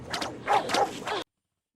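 A dog yips and barks a few times in quick succession in a film scene, short sharp calls that cut off abruptly.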